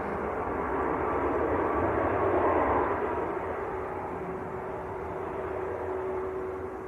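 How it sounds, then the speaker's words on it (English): A Ryanair airliner arriving from Copenhagen comes in to land at Manchester Airport, a broad steady roar of jet engines that swells slightly midway and then holds, heard from a distance with no talking. "Ryanair from Copenhagen, just about to touch down"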